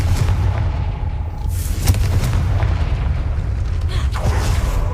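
A Confringo blasting spell explodes in the Hogwarts Legacy video game, a deep booming blast over a dense, rumbling game soundscape with sharp bursts cutting through steady low noise.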